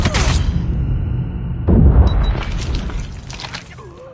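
A grenade detonates in Call of Duty Mobile, a loud, deep boom that swells midway through the clip amid ongoing in-game noise and fades with a whooshing tail.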